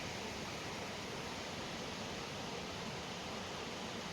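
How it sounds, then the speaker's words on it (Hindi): Water rushing at a waterfall beside a road bridge on a hill route near Chandigarh, a faint, steady broadband roar of flowing water that stays constant throughout with no voices. "आपको पानी की आवाज़ सुनाई दे रही होगी शायद कैमरे में"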